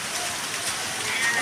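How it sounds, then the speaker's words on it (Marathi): Heavy monsoon rain, the first of the season, pours down in a continuous bright hiss of drops on surfaces, steady and close throughout. "भरपूर मोठा पडला काय पाऊस."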